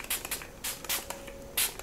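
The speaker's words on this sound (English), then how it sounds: "I'm gonna go ahead and just set my face with my e.l.f. setting spray." An e.l.f. setting spray is misted onto a face in several quick, close spritzes, short hissing bursts separated by brief pauses.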